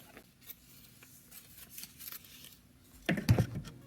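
Scissors cutting the cardboard flaps of a miniature 1/18 scale delivery box, faint snips and rustling at first, then a louder, close crunching cut near the end, with no talking.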